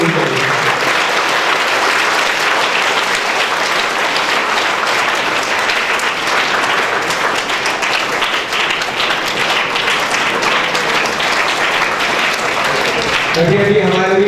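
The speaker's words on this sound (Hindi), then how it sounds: "इनके शाया निशान ताली बजनी चाहिए" An audience at a ceremony welcoming a guest breaks into sustained, loud applause, dense clapping that continues steadily with a voice briefly heard near the end.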